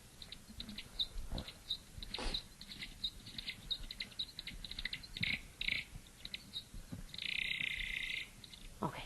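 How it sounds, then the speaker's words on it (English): A bat's song during a wing-flapping display, slowed down: rapid chirps, clicks and short buzzy trills repeat over a noisy, hissing background, ending in a longer sustained buzz. "this is a bat, and he's going to do a wing flapping display and do his little song"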